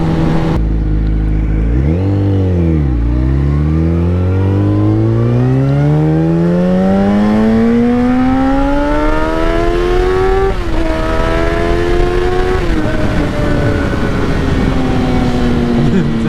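Sport motorcycle engine on a night ride, revving hard and climbing steadily through the gears in long rising sweeps, loud and close throughout with no talk over it.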